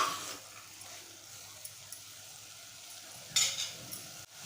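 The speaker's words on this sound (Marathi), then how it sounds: "मिक्स करून घेऊया।" Tomato stirred into a pan of sprouted red cowpea usal, Malvani style, giving a low steady sizzle with soft scraping, louder stirring scrapes near the end.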